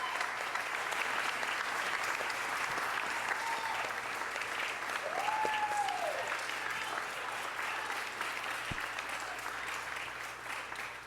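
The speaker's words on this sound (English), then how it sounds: "One more round of applause for Makara and that incredible voice." A crowd at a neighborhood congress opening session applauds a singer after the national anthem, sustained clapping with a few cheers and whistles rising over it.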